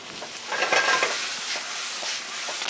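Onion filling sizzles in a pan as it caramelizes, a close, steady frying hiss with soft stirring scrapes and small crackles throughout.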